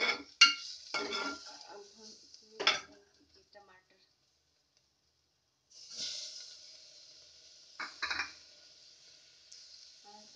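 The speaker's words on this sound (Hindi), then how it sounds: "टमाटर को हम 1 से 2 मिनट तक बस ऐसे चलाते रहेंगे" Tomatoes stirred in a cooking pan give a steady frying sizzle with scattered clinks and scrapes of a spoon against the pan, broken by a quiet pause before the sizzle returns.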